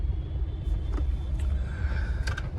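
A Maruti Alto car engine idles with a steady low rumble close by, its AC not running, while faint clicks and a thin whine come and go over the hum.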